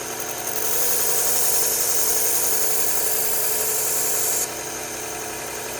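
A 1x30 belt grinder with a new fine sharpening belt works a knife bevel, a loud steady whine and hiss held for about four seconds before easing back to the motor's lower running hum.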